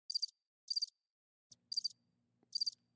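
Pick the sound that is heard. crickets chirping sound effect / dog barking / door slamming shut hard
crickets chirping sound effect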